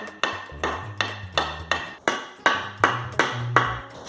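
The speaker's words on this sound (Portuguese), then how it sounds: "Você pega o martelinho bem com cuidado" Small hammer gently tapping wooden slats on a large adjustable DIY dog pen, about a dozen crisp knocks in a steady uneven rhythm, close and clear with no speech.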